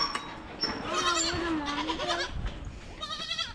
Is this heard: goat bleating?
yes